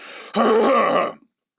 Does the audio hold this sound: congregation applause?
no